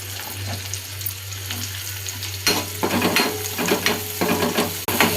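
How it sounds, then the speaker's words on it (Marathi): Chopped onion drops into hot oil already cooking with garlic and sizzles strongly up close, a steady frying hiss rising sharply at the moment it lands and crackling on alone with scattered stirring clinks. "तर आता सोडते मी ह्यात कांदा।"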